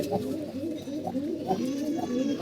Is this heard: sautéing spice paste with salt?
no